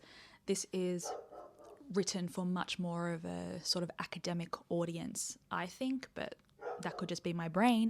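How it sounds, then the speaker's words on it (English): A pet dog barking and yipping in the background, several short sharp barks mixed with whimpers, heard beneath someone talking in the foreground. "I apologize for my dog barking in the background"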